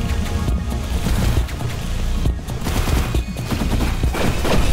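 Rapid gunfire and blasts in the Hyper Light Drifter boss battle as mines are shot, a dense, continuous barrage of overlapping bursts layered over a steady game soundtrack.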